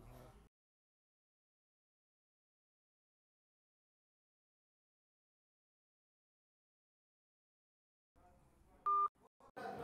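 Telephone dialing tones on a Xiaomi Poco M3 phone, a short burst of beeps near the end after long silence, with a person speaking softly around them.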